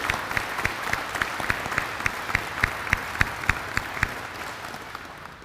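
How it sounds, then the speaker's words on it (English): Steady applause from an audience at an 82nd Combat Aviation Brigade NCO induction ceremony, honoring the brigade sergeant major, with a few louder rhythmic claps standing out before it fades. "Would you join me in a round of applause for your brigade sergeant major?"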